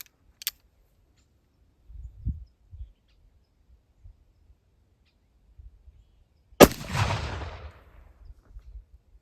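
A single sharp gunshot fired with homemade black powder cracks out loud and close, followed by a rumbling, rolling tail that fades over a few seconds, with a few faint knocks and handling sounds before it.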